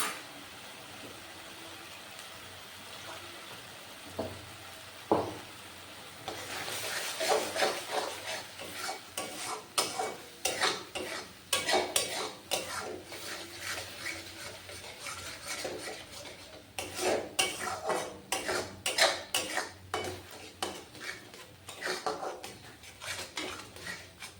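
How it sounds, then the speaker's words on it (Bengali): A spoon scrapes and clinks against a pan as ground pointed gourd seeds and potato paste are stirred into a thick gravy. The strokes come as repeated bursts with a soft sizzle underneath, and there are short pauses between them. "এবার পটলের বীজ আর আলু যেটা বেটে রেখেছিলাম ওটা দিয়ে দিলাম।"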